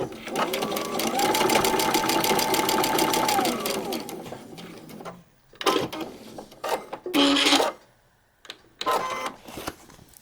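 A sewing machine stitches a seam through a paper piecing foundation in a steady, fast whirring run, followed by short bursts of stitching and handling noise.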